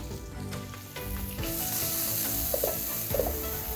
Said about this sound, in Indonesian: Kita akan tumis bawang merah